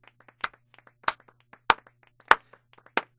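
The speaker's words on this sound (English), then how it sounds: "he gives us a slow clap round of applause" A slow clap from a character in the video game Final Fantasy 8: five single, sharp handclaps spaced evenly about two-thirds of a second apart, crisp and isolated over faint background chatter.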